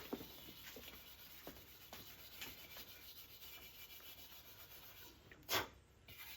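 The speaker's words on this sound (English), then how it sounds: "A little bit of steel wool on this chrome." Steel wool scrubbed over rusty chrome on a 1975 EZGO golf cart wheel, producing quiet, repeated rasping rubs in short strokes, with a sharper scrape near the end.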